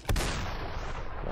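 A single sharp, loud gunshot from the video game SuperHot, with a brief booming tail that fades into the surrounding game ambience.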